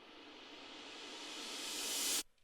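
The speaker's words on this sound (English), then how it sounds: "I'm not sure if I made this cymbal swell or not." A cymbal swell effect, a hissing wash of noise rising steadily in loudness for about two seconds, then stopping sharply with a faint tail.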